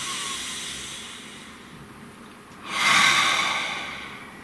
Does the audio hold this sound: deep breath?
yes